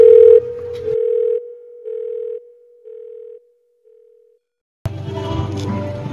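A telephone dial tone hums steadily and close, breaking into a few pulsed segments as a call is placed. It fades to silence before voices and room noise start up.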